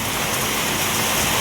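Heavy rain pours down steadily in a dense, even hiss of drops, loud and close, with no talking.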